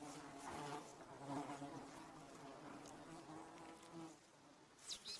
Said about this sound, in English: The bees understandably resent having their stores plundered.